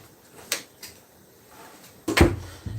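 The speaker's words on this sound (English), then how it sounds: "Please let me close the door." A door pushed shut indoors, with a soft knock early on and then a loud close with a clunk of the latch, alone and near.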